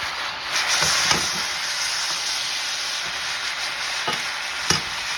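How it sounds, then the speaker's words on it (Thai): White onions and shallots sizzle steadily as they are stir-fried in a hot pan, a continuous bright crackle broken by a few soft knocks of the utensil against the pan. "เสร็จแล้วเราก็ใส่หอม ขาว หอมใหญ่ที่เราหั่นเอาไว้ แล้วก็หอมแดงใส่ลงไปเลยค่ะ"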